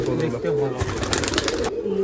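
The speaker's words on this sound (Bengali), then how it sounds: "এইগুলো হলো উড়ার কবুতর বাজির কবুতর" Giribaz flying pigeons coo in low, rolling throaty calls nearby, overlapping one another, while people talk in the background.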